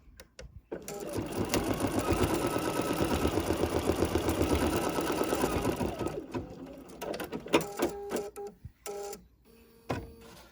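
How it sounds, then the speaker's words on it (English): An embroidery machine stitching a dense satin-stitch border around an in-the-hoop notebook cover, running steadily with a fast rhythmic chatter before stopping, followed by scattered clicks and handling noises. "it's going to do a beautiful satin stitch all the way around the outside of this"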